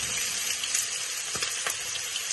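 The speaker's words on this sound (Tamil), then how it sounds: "இப்ப முதல் போடுவது வெங்காயம்." Onions hit hot oil in a pan for pork curry, giving a steady, bright sizzle with a few small crackles and pops, close and continuous.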